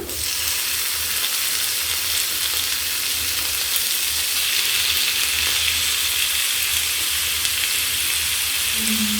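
Tomatoes frying in a pan with onion and ginger-garlic paste for a simple cauliflower palya, a steady close sizzle running unbroken and fairly loud throughout, with no talk.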